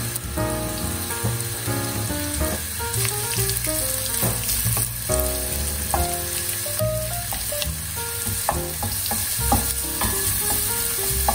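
Garlic with milk and a bay leaf cooking in a pot for pasta soup, a steady dense sizzle and bubbling with scattered stirring clinks, loud and continuous throughout.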